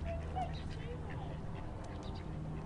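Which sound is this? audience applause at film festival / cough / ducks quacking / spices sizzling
ducks quacking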